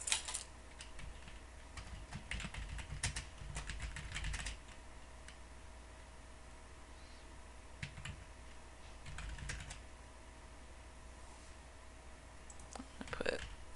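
Sharp, sparse computer mouse clicks come in small bursts while a file is being selected, faint and close against a quiet room hum.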